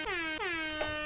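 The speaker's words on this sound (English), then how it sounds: "You get an air horn, good sir." Three quick blasts of an air horn sound effect, loud and brassy, the last one cut short by a burst of noise.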